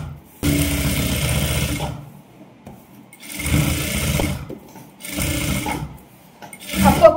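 A sewing machine runs loud and close while stitching the lining of a girl's silk pavadai skirt, in four separate bursts with short pauses between them.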